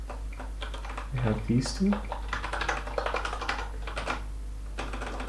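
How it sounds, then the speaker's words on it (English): Keyboard typing during a live coding session, a rapid run of soft clicks and taps that continues steadily under and between a man's speech. "this is actually turning into some ASMR typing instead of me just talking"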